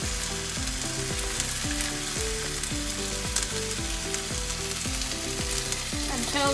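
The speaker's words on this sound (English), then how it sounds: "saute the tomatoes" Tomatoes sauteing in a pan for butter chicken give a continuous close sizzle, with frequent spatula scrapes and stirring knocks at a steady pace.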